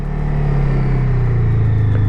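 Honda Rebel 500 cruiser motorcycle riding a low-speed turn, a close, loud steady engine rumble with a slowly falling pitch as it rolls around the bend.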